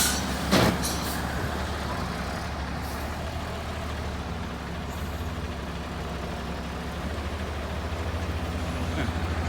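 A tractor-trailer truck with a semi-trailer moving slowly while reversing, its diesel engine giving a steady low rumble with a brief hiss near the start, continuous and moderately close.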